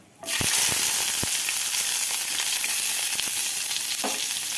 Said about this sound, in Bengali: এখানে তার মধ্যে তেল দিয়ে দিয়েছি, তেল গরম হয়ে গেছে। এবারে এর মধ্যে দিয়ে দেব টমেটো কুচোনোটা